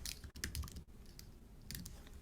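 Quick bursts of keystrokes on a computer keyboard, typing a short software name in a couple of brief flurries with a pause between, close and fairly quiet.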